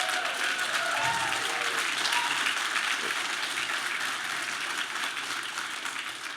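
Steady, dense audience applause on a talk show panel, loud and continuous throughout, tapering only slightly toward the end with no voices on top.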